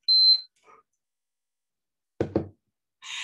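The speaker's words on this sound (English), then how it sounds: "oh, there goes my timer" An electronic presentation timer goes off with a short, loud tonal beep, followed after a pause by a few sharp knock-like clicks and a brief buzzing chime in an otherwise quiet room.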